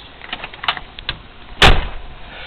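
A few faint knocks and clicks, then a single sharp, loud sneeze bursts out close by before things settle back to quiet.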